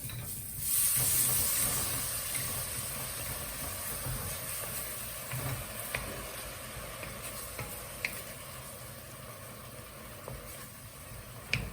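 Stock poured into a pan of dry-fried lentils for a vegan sweet potato and lentil dhal, giving a soft steady sizzle with scattered stirring clicks and taps, quiet and close.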